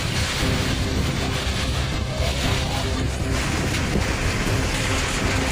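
Heavy rain pours steadily during a sudden violent thunderstorm over Mandalay, a dense, loud roar of rainfall with low rumbling thunder underneath, continuous throughout with no voices.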